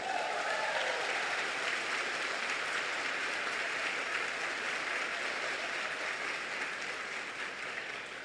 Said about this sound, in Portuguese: Você vai aplaudir ou eu vou ter que pedir?